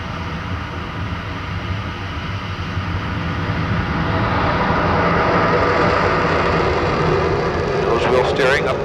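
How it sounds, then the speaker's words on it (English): Lockheed SR-71 Blackbird jet engines roar at full afterburner, a broad heavy rumble that swells louder over several seconds, with a voice speaking beneath it near the end. "Full afterburner."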